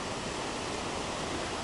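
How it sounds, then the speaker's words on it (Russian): Small waterfall spilling over the remains of an old dam in the taiga, a dense, steady rushing roar filling the air without a break, close and continuous, with no voices. "Хороший водопадик, да, ребят?"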